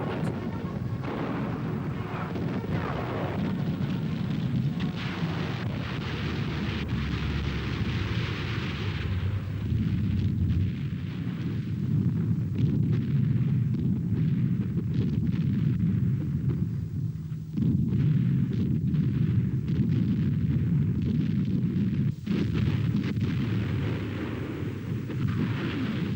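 Artillery and flak batteries firing around the WWII Anzio bridgehead, a continuous dense roar of booms and rumbling blasts that runs for the whole stretch, steady and loud without voices.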